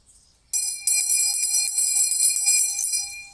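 A school bell rings continuously at a last-bell ceremony at a school in Kyiv, a loud sustained electric ring starting abruptly after a brief quiet moment and holding steady to the end, with no talk over it.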